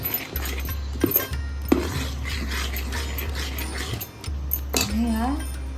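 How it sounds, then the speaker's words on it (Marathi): Idli batter being stirred with added salt, a spoon scraping and clinking against the vessel in a steady close-up rhythm, with a few sharper taps and a voice talking over it. "पिठामध्ये थोडं मीठ टाकायचं आणि ते चांगलं ढवळून द्यायचं."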